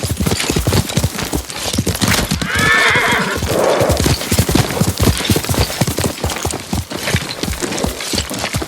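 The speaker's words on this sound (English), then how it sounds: "Yuriko's horse." A horse in the video game Ghost of Tsushima gallops with rapid, continuous clip-clop hoofbeats while letting out a loud, drawn-out neigh partway through, heard close and without talk.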